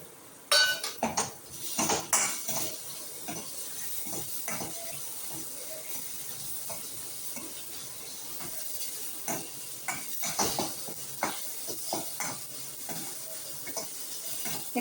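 Dried fish (karuvadu) sautéed in a pan, with repeated metallic clinks and scrapes of a utensil against the pan over a soft background sizzle, the clatter coming in irregular bursts.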